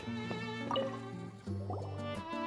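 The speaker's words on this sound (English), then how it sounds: "it sounds like a water droplet is on the second floor" Bright, plinking water-droplet drips in the video game Genshin Impact, a few scattered close drops with gurgling, liquid tones over soft sustained background music.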